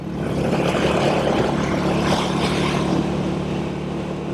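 Rare 1959 Indian Fire Arrow motorcycle built by Royal Enfield, ridden at speed in fourth gear, a loud steady engine drone mixed with rushing wind, no talking.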